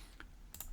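Single quiet keypress on a computer keyboard, a couple of faint clicks close up in an otherwise silent room.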